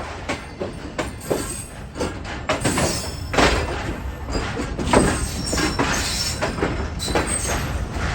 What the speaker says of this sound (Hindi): फाइनली तकरीबन 2 घंटे लेट ट्रेन हमारी पहुंच चुकी है हैदराबाद जंक्शन पर